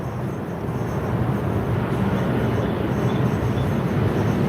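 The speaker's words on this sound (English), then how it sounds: "Airplanes going by." Airplanes passing overhead close to an airport, a steady broad low roar that swells slightly after the first second and then holds loud and continuous for several seconds, with no voices.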